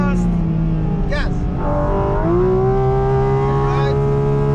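A Porsche GT4 RS engine pulls hard at full throttle on the Nordschleife, a steady, loud in-car drone whose pitch climbs through the gears, with a voice talking briefly over it.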